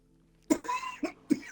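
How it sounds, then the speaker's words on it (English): Three short, sharp coughs in quick succession, close by, with a brief raspy throat sound between the first two. "Can I please stop coughing?"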